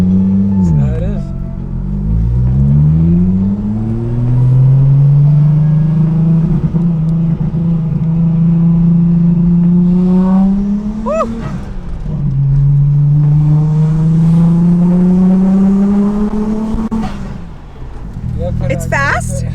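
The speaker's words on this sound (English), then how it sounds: "we are taking out the Stagia for its first test ride" A Nissan Stagea 260RS Autech wagon accelerates hard on a test drive, its engine climbing through rising revs, dropping between gear changes and climbing again, loud and close from inside.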